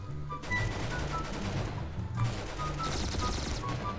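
Gunfire in the Roblox game Arsenal, a steady quiet run of rapid shots with faint pings, heard at a distance under the game's background noise.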